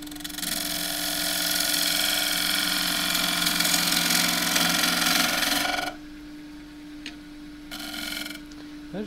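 A 3/8-inch bowl gouge with a 3/8 flute cuts the rim of a wide-rim box-elder bowl spinning on a lathe, giving a loud, steady hissing, scraping drone with a motor hum underneath. The cut stops partway through, leaves a quieter hum, then returns briefly.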